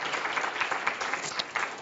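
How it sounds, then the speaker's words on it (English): A round of applause from a presentation audience, steady dense clapping held at even volume through the whole stretch with no voices over it. "Let's have a round of applause."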